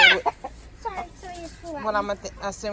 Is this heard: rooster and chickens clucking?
yes